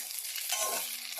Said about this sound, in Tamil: வெண்டைக்காய் இப்ப நல்லா வதங்கிட்டு வருது